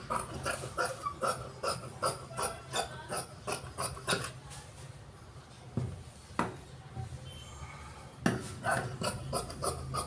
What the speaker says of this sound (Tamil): இப்போ ஃப்ரண்டில் வந்து கிராஸ் பண்ண போகிறேன்.